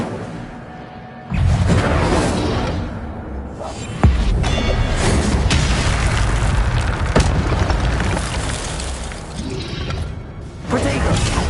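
Fire spell cast in the Hogwarts Legacy video game: a loud burst of flame and booming game effects, sustained and dense with a sharp hit near the middle.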